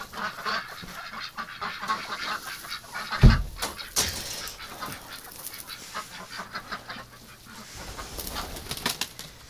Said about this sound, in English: That's a dirty duck over there.